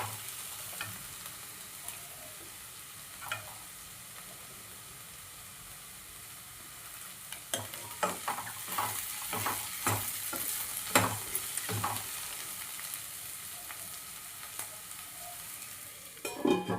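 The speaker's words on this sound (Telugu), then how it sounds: "ఇంకొక 2 మినిట్స్ వేయించుకుంటే సరిపోతుంది." Onions frying in a pan while being cooked down soft for an egg fry, with steady sizzling and bursts of stirring and scraping in the second half, close and fairly loud, no talking.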